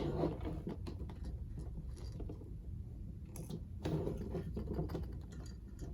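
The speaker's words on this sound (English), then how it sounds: "we're gonna mount up the manifold using the screws." Screws are driven in to fasten an air suspension manifold mount in a car trunk. Close mechanical clicking and ticking runs through the clip, with a denser rattling burst near the middle and no speech.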